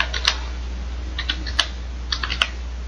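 Crisp computer keyboard keystrokes come in short, irregular clusters while a command is entered, close and moderately loud over a low steady hum, with no talking.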